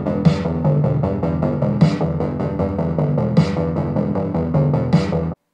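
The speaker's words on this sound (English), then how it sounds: "it's a big snare, has a little bit of reverb" A big, punchy snare drum hits in a steady pattern within a full drum loop, each crack trailing a short reverb tail.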